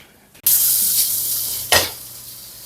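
A pork rib steak dropped into hot butter with garlic cloves in their skins, bursting into a loud steady sizzle, with a second sharp hiss surge partway through as the meat is moved; close and alone.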